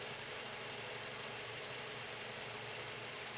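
A car engine idles steadily after being restarted during a low-voltage battery check, a faint constant hum with even low-pitched vibration and no talking.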